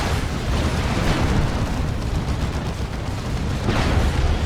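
Sustained autocannon fire and rumbling explosions from a Dawn of War 2 battle between Imperial Guard and Chaos Space Marines, a dense continuous roar of bursts with no clear gaps.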